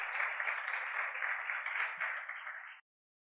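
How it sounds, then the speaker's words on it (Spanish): A church congregation breaks into loud, dense applause that carries steadily for almost three seconds and then stops abruptly. "Denle un aplauso del consejo sabio de los hombres de Dios"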